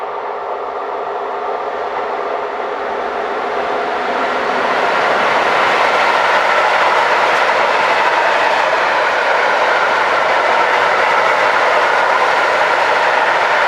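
A veteran Class 151 electric locomotive, number 026, hauls a rake of empty scrap wagons past, its heavy rumble and wheel noise swelling to a loud, steady roar.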